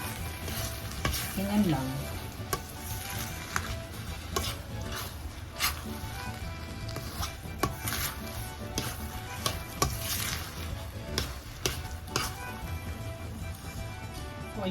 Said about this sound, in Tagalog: Halu-haluin nyo lang siya kasi it's not getting burn or masunog.